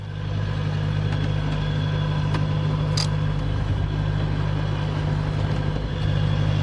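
A boat's motor runs steadily on calm seas with the wind dying, a continuous low droning hum with constant loudness and no pauses, heard alone at close range.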